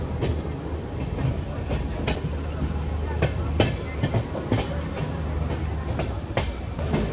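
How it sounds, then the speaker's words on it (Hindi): The 12482 Shri Ganganagar–Delhi Intercity Express pulls out of Gidderbaha station, wheels clacking over rail joints in a steady, evenly spaced beat above a continuous rolling rumble, loud and close. "निकल चुकी अपनी ट्रेन गिद्धड़बाह रेलवे स्टेशन से।"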